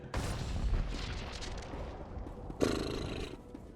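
Explosions boom in Star Wars: The Old Republic, a rumbling, sustained blast followed by a second sharper burst partway through, loud and close with no speech.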